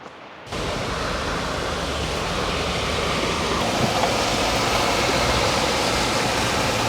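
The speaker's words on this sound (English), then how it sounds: "Look at that creek." A creek along a wooded mountain trail near an old grist mill rushes steadily, a dense, even broadband wash of flowing water that starts abruptly and continues unbroken, fairly loud and close.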